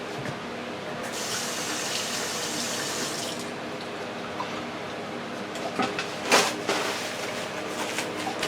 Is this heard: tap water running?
yes